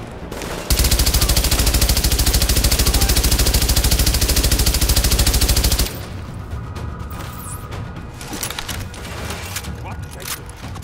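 A suppressed MG5 machine gun in Tom Clancy's The Division fires one long, loud, rapid burst for several seconds, then cuts off, leaving quieter clatter and faint mechanical sounds.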